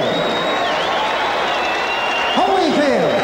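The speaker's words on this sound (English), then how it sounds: "have a nice round of applause for Dwight Muhammad QAWI" Boxing arena crowd applauding and cheering after a cruiserweight title fight knockout, a steady loud roar of clapping with whistles and an announcer speaking over it.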